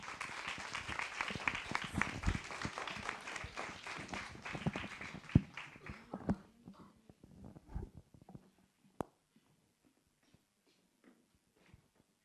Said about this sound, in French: passez un bon moment tout en applaudissant évidemment les membres de l'association Les Belles Lettres